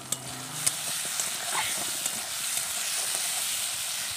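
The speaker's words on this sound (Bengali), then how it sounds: "আমি এখানে বেগুন আলুটা এই যে ভেজে নিয়েছি" Potato and eggplant frying in a pan, a steady bright sizzle with hiss throughout and a few clinks of stirring near the start, close and continuous.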